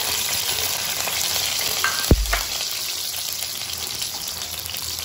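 Kikiam and squid balls fry in a pan with a steady, close hiss, joined midway by one sharp clatter of stirring or a utensil striking the pan.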